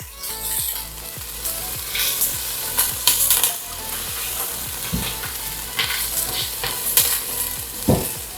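Onion fries in a pan for traditional Polish beetroot buraczki, a steady close sizzle broken by repeated scraping stirs of a utensil, with no voices.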